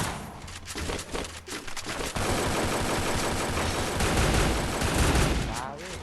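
Rapid gunfire crackles in a Free Fire match, sustained bursts of shots layered into a dense, loud fusillade that runs nearly the whole time with few pauses.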